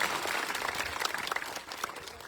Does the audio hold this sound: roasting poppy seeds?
no